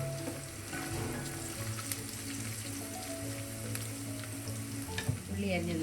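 Curry leaves fry in a pan, giving a steady crackling sizzle with small pops throughout, under a faint background hum and no talk.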